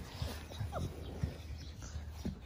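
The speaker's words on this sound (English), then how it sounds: "I got individual puppies." Young puppies whimpering and yelping in short, faint, high bursts several times, close by against a steady low background hum.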